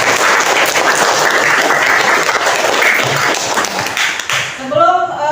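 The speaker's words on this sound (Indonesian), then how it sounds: "Tepuk tangan dulu untuk kalian." Classroom of students clapping together in sustained, lively applause that tapers off near the end, when a voice begins speaking.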